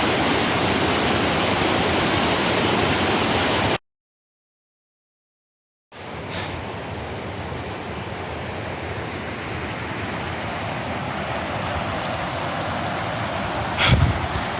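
A river in Panthertown Valley, Nantahala National Forest, North Carolina, rushes in a steady broadband roar close by, cut briefly by a couple of seconds of silence before resuming at full strength.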